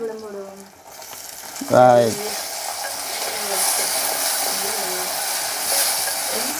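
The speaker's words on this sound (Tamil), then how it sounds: "என்ன வெண்டிக்காய் பொரிக்கிறீங்களே" Oil crackles and sizzles steadily in a pan as okra fries, with a brief clatter near the start and faint voices in the background.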